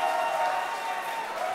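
A crowd at an Oakland fighting-game tournament applauds and cheers for the player Rocky after his win, a brief, dense wash of clapping and crowd noise.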